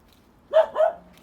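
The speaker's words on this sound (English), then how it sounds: "Sorry about the dog barking." A dog named Winston barks twice in quick succession at an allotment in winter, short mid-distance woofs standing out against quiet background.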